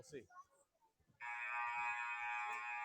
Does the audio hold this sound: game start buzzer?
yes